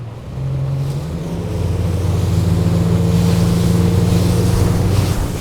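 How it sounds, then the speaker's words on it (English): An Axopar 22 Spyder motorboat runs through a following sea, its outboard engine droning loud and steady as it climbs to speed, with wind and hull splash layered over the constant hum. "So let's go driving in some following sea and see how the boat handles."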